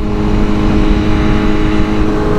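A 2023 BMW M1000R motorcycle with a Stage 1 tune holds a steady 6000 rpm in second gear on a highway, its engine a loud, close, unbroken drone with no voices.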